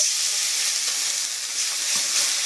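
Spices fry with cumin paste in a pan, a close, loud, continuous sizzle with soft stirring scrapes underneath.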